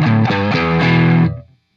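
An electric guitar played dry with no reverb, a distorted chord phrase of several sustained strums that rings out for over a second, then stops cleanly with a short decay and no lingering tail.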